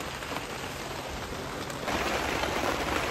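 Steady rain falling in Sonmarg, Kashmir, on a snowy day, a continuous close hiss that grows a little louder and denser partway through, with no voices.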